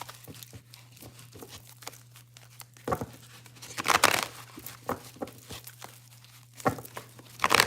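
Rustling and crinkling of tarot cards being shuffled, with irregular bursts of riffling and soft slaps over a low steady hum.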